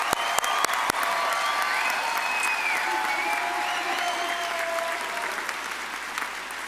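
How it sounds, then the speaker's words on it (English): Audience at a Gateway graduation applauding the graduates, a sustained dense wash of clapping from a large room that holds steady throughout, with a few sharp close claps at the start and faint voices beneath. "So one more round of applause for all of our grads."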